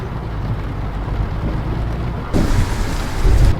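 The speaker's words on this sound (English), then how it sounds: "Without the extra sound, you don't pick up the thunder as good as you should do." Steady rain patters with rumbling thunder in a weather mod for American Truck Simulator, a constant hiss of rainfall that grows louder partway through as a deep thunder roll builds near the end.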